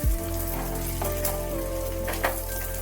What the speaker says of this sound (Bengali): তেলের মধ্যে এবার আলুগুলোকে বেশ ভালোভাবে ভেজে নিতে হবে।